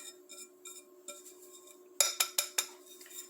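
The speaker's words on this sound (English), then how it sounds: "Okay, so I'm going to add the dry to the wet." A utensil clinks softly against a bowl while dry ingredients are folded into wet chocolate chip muffin batter, followed by four sharp, evenly spaced taps near the end.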